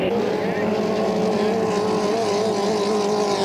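A 2.5L racing powerboat engine drones steadily and loud as the boat runs the circuit at Gananoque, its pitch holding nearly constant with slight wavering, under commentary.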